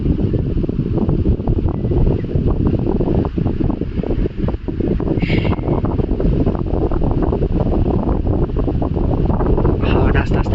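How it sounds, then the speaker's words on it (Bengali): Strong wind blows over village water during fishing, a loud continuous gusting roar buffeting the microphone, with a voice talking over it. "হাওয়াটা আস্তে আস্তে বেড়ে যাচ্ছে"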